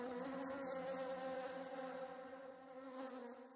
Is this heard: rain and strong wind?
no